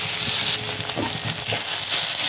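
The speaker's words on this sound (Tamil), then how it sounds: "அதையும் போட்டு அது கூட எல்லாம் மிக்ஸ் பண்ணி நல்லா வதக்கிக்கோங்க" Celery and leeks sautéing in a pan for egg Manchurian, a steady close sizzle with occasional soft stirring scrapes throughout, no voices.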